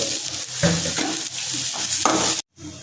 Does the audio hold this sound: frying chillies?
yes